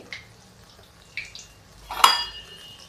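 Singhade fasting dish being turned in an iron kadhai, a few light metallic scrapes and taps followed by one sharper clatter of the spoon against the pan, quiet between strokes.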